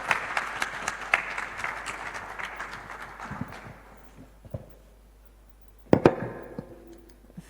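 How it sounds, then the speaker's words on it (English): Audience applause at a youth seminar, loud and dense at first, then thinning out into scattered claps. A burst of louder, closer claps comes near the end before fading. "With a round of applause, please."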